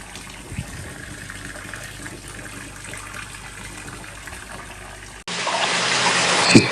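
Water gushes loudly into a koi pond being refilled. A softer, steady rush grows into a louder, brighter flow for the final second, heard close up with no talking.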